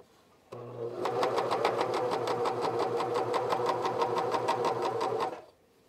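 A cover stitch machine with a binding attachment sews over a seam allowance, running loud and steady with a rapid even needle chatter for several seconds, starting and stopping cleanly.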